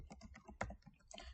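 Quick bursts of typing on a computer keyboard while filling in a signup form for a cafe management app, irregular clicks up close with one sharper, louder keystroke in the middle.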